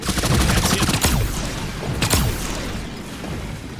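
Rapid, loud gunfire bursts from a tower defense video game, crackling in quick succession with a couple of sharper shots standing out before fading slightly toward the end.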